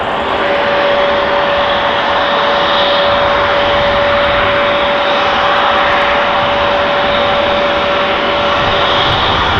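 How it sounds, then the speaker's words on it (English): An Air Astana Airbus A321neo jet at Schiphol Airport gives a steady, loud, sustained engine roar with a constant whine running through it, holding evenly at close range the whole time. "This is Air Astana flight 904 A321 Neo to Attila, 6 years old, first flight July 2018."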